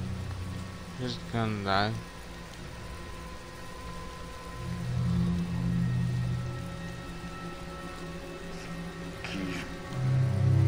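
Steady rain falls in the video game Tales of Xillia, a continuous hiss running throughout beneath spoken character dialogue and occasional game sound effects.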